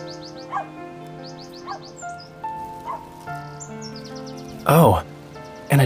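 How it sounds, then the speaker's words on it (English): In a video game, bright bird chirps repeat over a steady musical drone, then a dog lets out a loud bark near the end, with a second bark starting as it cuts off. "Oh, and a dog is arguing with a bird over there."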